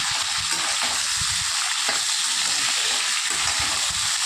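Pointed gourd and potatoes fry in hot oil with nigella seeds in a wok, a loud, dense, continuous sizzle that stays steady from start to finish, close up and with no voices.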